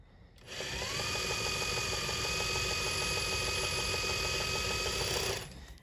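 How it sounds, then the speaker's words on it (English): An industrial sewing machine runs steadily while winding a bobbin, a sustained close whirring hum with a rhythmic mechanical patter that starts abruptly and stops after about five seconds. "Now you can turn your machine on and push your pedal to begin filling your bobbin."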